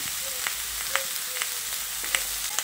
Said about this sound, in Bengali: এবার এর মধ্যে দিয়ে দিচ্ছি একটা বড় সাইজের কুচনো টমেটো